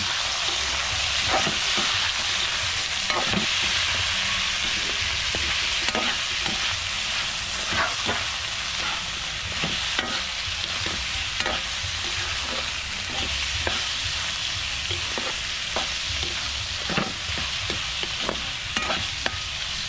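Field frog meat sautés in a pan with garlic, onion and ginger, giving a steady, loud sizzle with occasional stirring scrapes and pops throughout, and no talking.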